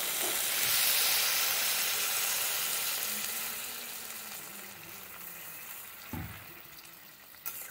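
Water is poured into a hot pan of flat beans, potato and aubergine, setting off a loud rushing sizzle that slowly settles into a softer, steady hiss, with a couple of brief knocks near the end.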